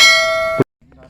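A single loud, bright notification bell ding rings out clearly for about half a second, then cuts off abruptly and is followed by a faint, brief murmur.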